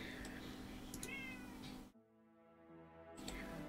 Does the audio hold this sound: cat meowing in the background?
yes